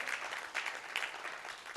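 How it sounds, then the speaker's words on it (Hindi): Brief audience applause greeting an honored guest at a memorial lecture event, a soft, distant patter of many hands clapping for under two seconds. "एक बार तालियां हो आदरणीय अश्विनी उपाध्याय जी के लिए"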